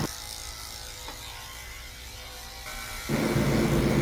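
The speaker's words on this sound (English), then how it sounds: "I'm shaving her belly out with a 10 blade" Electric dog clippers fitted with a short 10 blade shave the belly of a fluffy Corgi, giving a steady close mechanical buzz with a faint rattle that grows louder and fuller near the end.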